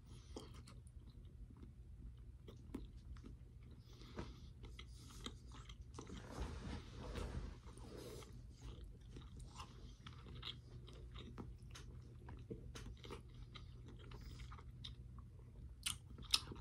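A Butterball smoked turkey snack stick is chewed close up, with soft, moist, repeated bites and crunches in an uneven rhythm against quiet surroundings.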